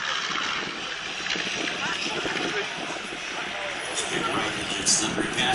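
B-25 bomber flying at the New York Air Show at Stewart International Airport, a steady loud droning roar of piston engines filling the background while people talk.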